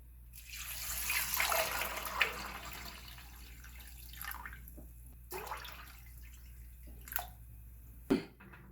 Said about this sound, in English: I'm going to put it in my pan along with some water